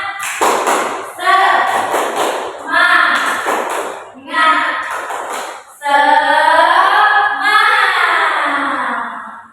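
Schoolchildren in a sixth-grade Indonesian classroom clap out a rhythmic 'tepuk semangat' cheer in short bursts, loud and close, alternating with a teacher's speech and the class chanting along.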